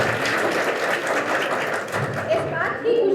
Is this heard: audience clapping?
yes